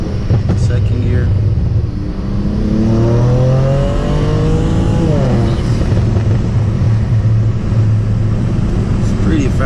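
A tuned BMW 335i with a Stage 2+ tune accelerates hard in second gear, its loud, close engine note climbing in pitch and holding a droning rumble with wind buffeting, and a voice heard briefly.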